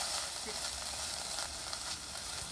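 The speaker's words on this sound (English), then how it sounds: "you're going to add your curry paste. Pop it in. And you're just going to mix this" Thai curry paste sizzles in a hot pan while being stirred for a sweet potato soup: a close, continuous, even frying hiss with no pauses and no voices.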